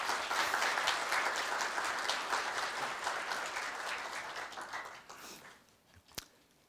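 Loud, dense applause fills a university staff retirement ceremony hall, holding steady before tapering off toward the end, with a sharp click just after it fades.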